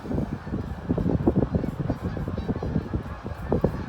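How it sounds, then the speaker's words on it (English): Geese honk repeatedly in a noisy, overlapping flock, the calls dense and fairly loud as they pass close overhead outdoors at a winter sunset. "Wow, you can hear the geese coming over here."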